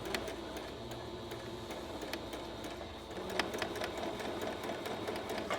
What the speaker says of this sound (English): you can put your foot back down and then continue to sew in the crease